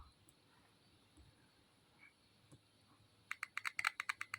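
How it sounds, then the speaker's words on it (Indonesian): A car tweeter speaker's wire is touched, and after near silence with a faint hum a quick burst of sharp crackling clicks snaps out in an uneven rhythm near the end. "kalau disentuh-sentuh kayak gini, dia ada suara kresek-kreseknya."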